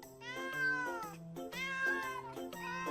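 Cartoon cat meowing repeatedly, several clear, drawn-out meows in quick succession, close and alone with no talk.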